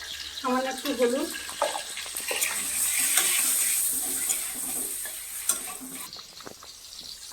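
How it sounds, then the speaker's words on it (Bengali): Egg fries in oil seasoned with turmeric and salt, a continuous close sizzle with stirring clinks, and a person speaks briefly near the start. "আর একটু লবণ দিয়েই ভাজবো।"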